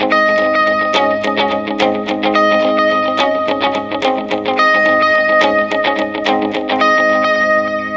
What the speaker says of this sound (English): This is the AXFX amp model.